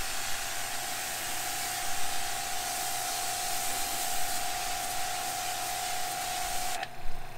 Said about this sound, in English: you're just going to spray off the screen like so